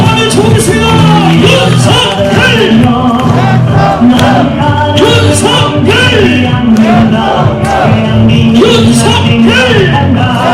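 A large crowd at a Gyeongbuk campaign rally cheers and shouts to welcome candidate Yoon Suk-yeol, loud and sustained, with whoops and chanting voices over dense applause-like noise.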